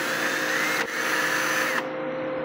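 A drill whirs steadily while backing screws out of the air filter assembly on a Briggs & Stratton small engine's plastic carburetor, a continuous close motor whine that shifts pitch and drops lower after a brief pause.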